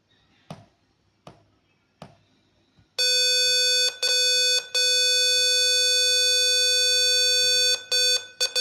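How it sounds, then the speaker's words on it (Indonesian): Several soft clicks of key presses on a password access prototype circuit, then a loud, piercing continuous buzzer tone sounds for several seconds, briefly interrupted by a few short gaps and ending in quick stuttered bursts. "salah satu kali lagi buzzer akan berbunyi"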